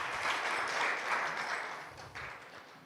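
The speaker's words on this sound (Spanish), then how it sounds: "Dele un aplauso al Eric." A church congregation applauds together for a man named Eric, a dense, steady wash of clapping at moderate volume that thins slightly toward the end.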